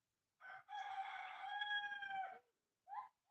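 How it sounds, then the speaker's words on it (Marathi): A village rooster crows once in a long, loud, drawn-out call, followed by a couple of short clucks or calls, with quiet around it. "कोंबड्याचे हे आरवणे खूप छान वाटतं ना गावाकडे"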